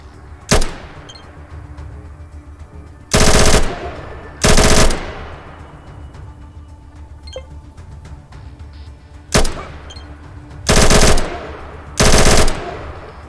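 Bursts from an RPK machine gun in the video game ATOM RPG: six loud, short bursts of rapid gunfire in uneven pairs, each cut off sharply, with quieter background between them.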